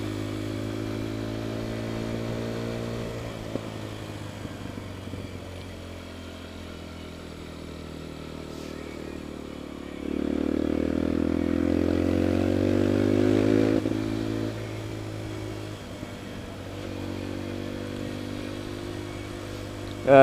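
A motorcycle on the road: a steady engine drone whose pitch rises and falls, with a louder revving surge midway, all under rough wind rush.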